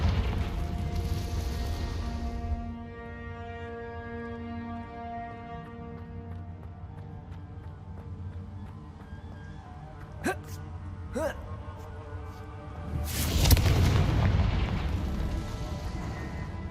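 Confringo fire-blast spell cast in Hogwarts Legacy, a sharp crackling burst near the end swelling into a broad roaring blast over a steady hum of game music, with a couple of brief sharp pops before it.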